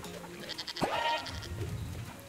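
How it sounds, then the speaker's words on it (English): A goat bleats in the video game Moving Out 2, one clear wavering bleat in the middle over a bed of game music and effects. "Oh no, we need to get the goat."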